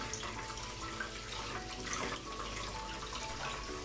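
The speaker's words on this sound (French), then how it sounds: "Ici, on va laver l'ananas." Running tap water streams steadily into a sink as a pineapple is washed, a continuous close splashing rush with no talk.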